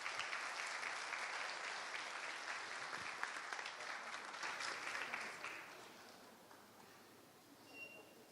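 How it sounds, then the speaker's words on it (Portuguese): A church congregation applauds in a sustained, fairly even clatter of many hands, heard at a distance and quite faint, fading away after about six seconds to near quiet. "se você quiser aplaudir a atitude deles"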